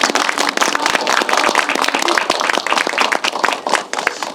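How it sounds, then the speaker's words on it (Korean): Audience applause at a Korean film screening with a cast and director Q&A, a dense run of many sharp claps that stays steady and loud for the whole stretch. "다시 한번 큰 박수 부탁드립니다."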